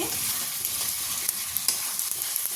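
Spice masala frying in hot oil while being stirred, a steady close sizzle with scraping strokes of the spoon running throughout, no talking.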